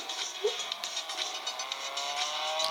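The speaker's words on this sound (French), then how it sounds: "Un petit dérapage qui va bien." Race car tires skidding and squealing in the mobile racing game Real Racing 3, a rising squeal over a continuous engine whine with quick chattering bursts, fairly quiet and without speech.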